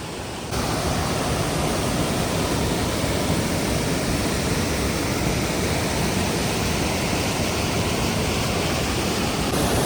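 Hukratte waterfall roars with powerful rushing water, a dense, steady, loud wash that fills the scene alone without a break.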